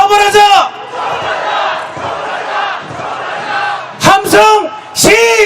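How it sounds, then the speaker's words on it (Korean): A street march crowd cheering and shouting in a loud, sustained roar, with sharp bursts of yelling voices breaking through near the start and in the final seconds. "함성"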